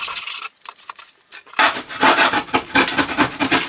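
Glued-down foam being scraped and torn off a 1970 KB record player, heard as close, harsh rasping strokes that start in short broken scrapes and then become louder, faster and more continuous.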